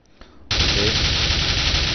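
An AK rifle opens up in automatic fire in CS:GO after a brief quiet moment, a sudden, loud, continuous burst of rapid shots that holds steady to the end.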